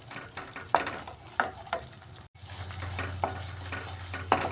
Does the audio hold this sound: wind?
no